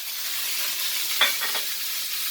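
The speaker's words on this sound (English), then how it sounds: "we're going to get a really nice sizzle" A steady, close hiss of meat sizzling in a hot pan, with a few faint scrapes partway through and no voices.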